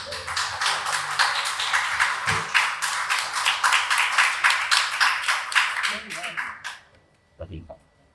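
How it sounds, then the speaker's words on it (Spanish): Audience applause at a poetry book presentation fills the room with dense, steady clapping for several seconds, then tapers off and fades into quiet with a last few scattered claps. "pido a todos ustedes un gran aplauso en este momento"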